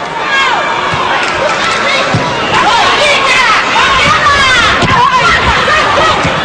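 A crowd of 8,000 fills the arena at a Cuba vs USA volleyball match at Athens 2004 with steady babble, cheers and whistles. Sneaker squeaks and a commentator's voice sit over it.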